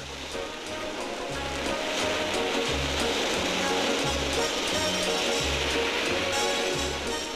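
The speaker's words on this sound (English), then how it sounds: "a seashore attraction in the wave-making machine which operates in this hotel swimming pool" Water churned by a wave-making machine in a hotel swimming pool at Mamaia, Romania, gives a loud, continuous rushing surf with steady, regular low pulses repeating about every half second, and no talk.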